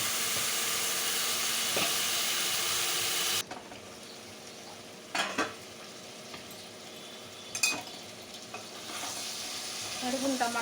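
Bitter gourd pieces and tomatoes frying in oil with turmeric, a loud steady sizzle for the first few seconds, then a quieter simmer with occasional stirring scrapes.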